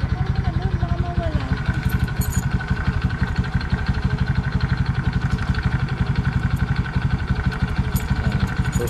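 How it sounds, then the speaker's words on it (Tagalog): A motorcycle engine idles with a steady, rapid throb, close and continuous, while a voice talks briefly over it. "gagamitin natin itong motor ng aking utol"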